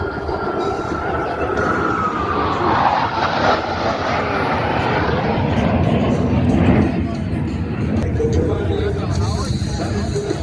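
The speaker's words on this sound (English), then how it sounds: "Angels 5 and 6 are approaching the flight line at 400 miles per hour" US Navy Blue Angels jets 5 and 6 at an air show, approaching the flight line at about 400 mph with smoke on, heard as a loud, continuous broadband roar that swells toward the middle, with music and announcer talk over it.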